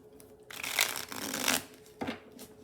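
A tarot card deck being shuffled: a loud, close riffling flutter lasting about a second and a half, then a shorter second riffle, with no talk over it.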